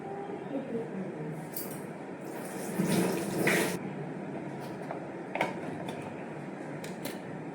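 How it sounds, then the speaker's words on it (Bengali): Tap water runs steadily over chicken pieces being rinsed in a kitchen sink, a soft continuous splash with brief louder gushes and clatters partway through. "এই চিকেনগুলো আমি আগে ধুয়ে রেখেছিলাম, আর একবার ধুয়ে নিলাম।"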